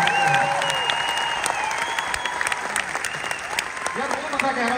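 Live comedy show audience in Birmingham claps and cheers for a friend, steady crowd applause mixed with whistles and voices talking over it.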